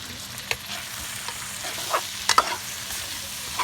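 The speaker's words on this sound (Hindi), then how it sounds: "अब मसाले की बुनाई हमने कर ली है" Spices for dhaba-style karela piyaz (bitter gourd with onion) fry and get stirred in a pan: a steady close sizzle broken by sharp spatula scrapes and clicks, loudest near the end.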